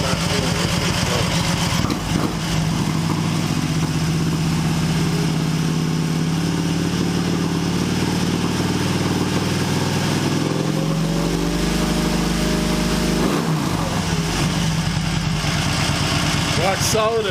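An Excelsior Henderson Super X motorcycle engine holds a steady high idle around 2,000 RPM, a loud continuous drone with a slight dip in pitch midway, as someone talks over it.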